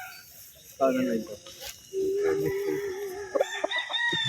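A Sweater Boston gray-comb three-way cross stag crows at a gamefarm, with two drawn-out crows and a few clucks close by while someone talks over the birds.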